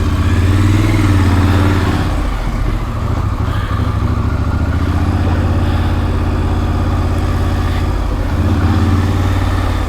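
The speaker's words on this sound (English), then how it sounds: "if you actually run the bike, the batteries get charged" A Triumph Scrambler 1200 motorcycle engine runs steadily and loudly up close, a continuous rumbling idle with slight swells in revs and no talking.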